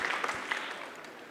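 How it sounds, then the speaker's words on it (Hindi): Audience applause after a call to clap at a political speech event in New Delhi, steady dense clapping filling the short moment without any voices. "तो उनके लिए भी ताली बजा दीजिए।"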